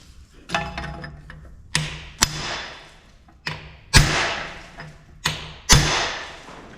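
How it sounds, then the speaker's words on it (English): A hammer strikes the cast iron gearbox cover of a Farmall F14 tractor about seven times, in sharp metallic blows that come singly or in quick pairs, each ringing briefly before fading. "You have to be a bit careful hitting any cast iron parts because they are quite brittle and you can damage the parts"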